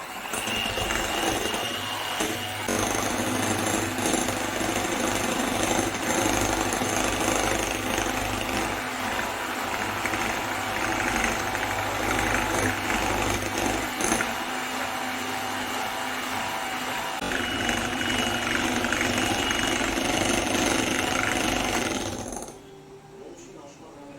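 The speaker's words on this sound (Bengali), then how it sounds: "আর এই যে একটা ইলেকট্রিক বিটার নিয়ে নিয়েছি। এবার মিডিয়াম স্পিডে ক্রিমটাকে বিট" Electric hand beater whipping cream in a bowl at medium speed, a steady loud motor whir running almost continuously before cutting off near the end.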